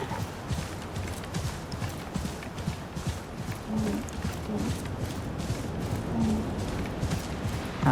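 Rhythmic padded footfalls of a camel plod across sand in Assassin's Creed Mirage, a steady clip-clop beat running throughout at moderate loudness over soft ambient noise.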